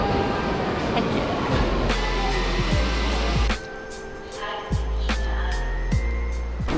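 Rumbling rail vehicle noise with clattering and whining motor tones throughout, steady and close, as if riding inside a moving tram in Vienna, Austria.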